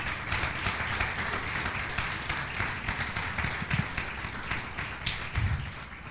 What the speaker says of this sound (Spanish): Aplauda a Jesucristo.